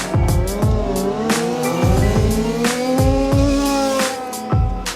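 Several 1/5 scale RC cars racing on a track, loud buzzing small engines rising and falling in pitch as they pass close by one after another, with rapid repeated passes and overlapping whines.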